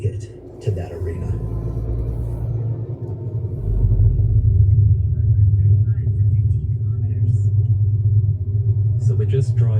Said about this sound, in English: So we're just driving through the mountains and hills of Jordan